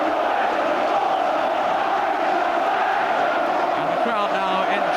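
A packed football crowd at Ayresome Park roars in a continuous, dense wall of cheering and chanting during a 1990 Middlesbrough against Aston Villa match, with a commentator's voice faintly over it near the end.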